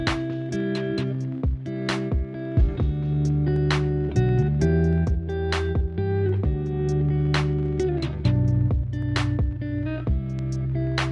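Steady music during mass inside a German cathedral, with sustained tones and shifting chords filling the space, punctuated by sharp percussive hits, continuous and fairly loud throughout.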